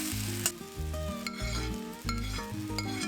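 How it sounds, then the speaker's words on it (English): Eggs and prawns sizzle steadily while being stir-fried in a kadhai, with a spatula scraping and stirring rhythmically over music. "Stir a bit and add the eggs and the prawns."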